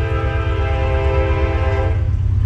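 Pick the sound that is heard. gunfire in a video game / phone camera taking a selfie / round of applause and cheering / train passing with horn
train passing with horn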